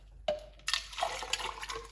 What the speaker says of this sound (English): I'm gonna put some water. Rough about a cup of water into the blender.